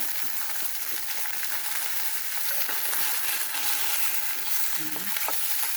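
Steady, bright sizzling of salmon frying in a hot pan, continuous and close, with a faint clink near the end.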